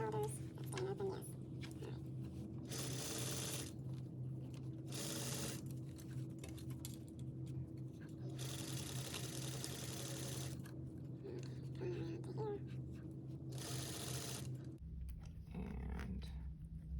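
A sewing machine stitches a neckline facing in several bursts of steady whirring, close and fairly loud, separated by pauses while a person talks over the stitching.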